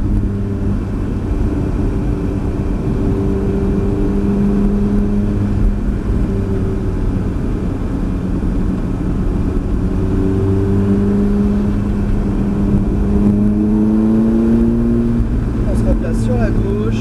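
A Ferrari F430 F1 on the Mérignac circuit drones steadily from inside the car, then its engine note climbs as it re-accelerates toward the end, with a voice talking over the cabin noise.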